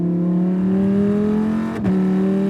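A tuned rear-wheel-drive Lamborghini Huracán LP580-2 with a V10 drives past, its engine droning loudly and steadily with a brief dip near the end before settling back into a sustained hum.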